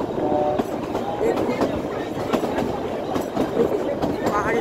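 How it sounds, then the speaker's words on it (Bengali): The Kalka to Shimla toy train runs through the hills with a steady rolling rumble and light rhythmic wheel clacks, heard from on board with faint voices in the background. "তো এবার চলুন আমরা চলতে থাকি এই টয় ট্রেনের সাথে সাথে।"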